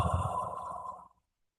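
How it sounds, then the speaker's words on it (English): A slow, audible exhale during a live guided relaxation meditation, a single soft breath lasting about a second before fading into silence, close and alone with no talk over it. "just breathing out slowly with full awareness on our breathing"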